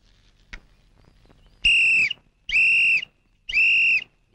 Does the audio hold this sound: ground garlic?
no